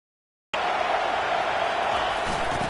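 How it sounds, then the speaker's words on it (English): A packed stadium crowd roars in the video game College Football 25 during an Alabama game at South Carolina, a loud sustained wall of cheering that starts abruptly after a half-second of silence. "This crowd knows when to bring it."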